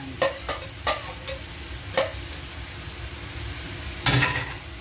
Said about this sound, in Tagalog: Isasama ko na rin sa gisa yung kinchay para lumasa sa ating sabaw.